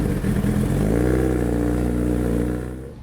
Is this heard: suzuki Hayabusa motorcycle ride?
yes